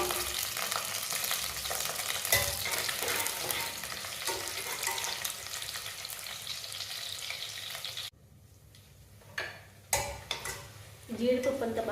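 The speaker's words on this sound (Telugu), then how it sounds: "పచ్చిమిరపకాయలు, కొంచెం పుదీనా ఆకు ఇవన్నీ వేసి వేయించుకోవాలి" Green chillies, mint leaves and cashews fry in a pan with a dense, crackling sizzle and stirring scrapes, close and steady, before it drops away to near quiet and a few sharp utensil clacks against the pan.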